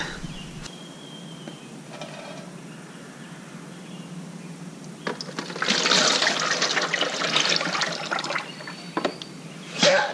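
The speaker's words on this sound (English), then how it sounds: "So I'll pour it into the real drain pan, and it's not even done draining yet." Transmission fluid from a 4th-generation 6.7 Cummins truck drains and is poured into a drain pan, a steady trickle that swells into a louder splashing pour partway through, heard up close without talk.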